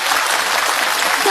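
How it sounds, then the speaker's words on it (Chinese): A theatre audience at a Shanghai Yue opera anniversary gala gives a child performer dense, steady applause that fills the whole stretch at full volume. "掌声送给他"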